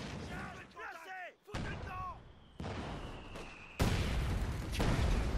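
Gunfire and cannon blasts in the World War II strategy game Company of Heroes 2 come as a series of abrupt, loud bursts with a heavy, sustained rumble, mixed with a voice talking at the start.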